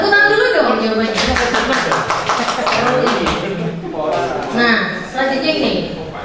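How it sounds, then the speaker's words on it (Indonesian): Indoor audience in a teacher training session claps in a burst of applause, with talk and voices mixed throughout and rising over the clapping near the end. "Tepuk tangan dulu dong jawabannya."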